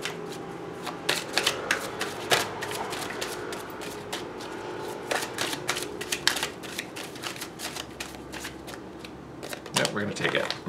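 Tarot cards being shuffled by hand, a close, crisp run of riffling flutters and slaps in uneven bursts, with a voice talking softly underneath.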